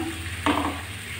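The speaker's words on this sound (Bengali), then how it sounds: "মশলাটা দিয়ে আমি আলুগুলো ভালো করে কষিয়ে নেব" Potatoes sautéing in a pan with a mustard spice paste give a soft steady sizzle, broken midway by one brief scrape of a stirring spoon, close and fairly quiet, with no voices.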